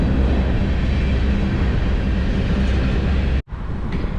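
A continuous loud rumble of a passing train beside railroad tracks, steady and close, with a brief dropout near the end.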